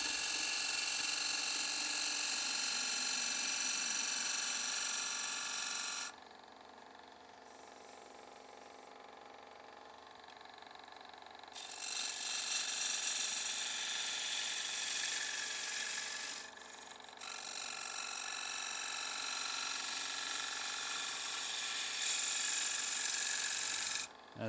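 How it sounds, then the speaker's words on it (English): Small maple bowl being turned on a lathe with an unhandled deep fluted bowl gouge: steady loud rasping cuts in long passes, broken by two quieter pauses, with no talking. "I'm using my smaller bowl gouge, deep fluted bowl gouge that is not in a handle"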